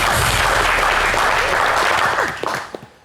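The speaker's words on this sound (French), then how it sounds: "On applaudit pour elle." A studio audience on a French TV variety show claps loudly and steadily for a guest, the applause thinning and trailing off into a few scattered claps at the end.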